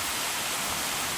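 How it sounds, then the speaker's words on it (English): A waterfall about fifteen feet tall on the Appalachian Trail, heard as a loud, continuous hissing roar of falling water, close and steady, with no voices. "this is the bottom of the waterfall"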